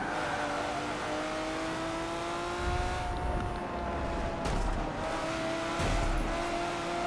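A race car in Forza Motorsport 7 crashing into a Porsche, a continuous loud engine drone with tire squeal and a few heavy thumping impacts in the second half.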